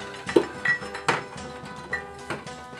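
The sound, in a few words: steel square tubing being handled and slid into motor mounts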